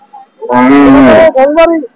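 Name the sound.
cow or bull mooing at cattle market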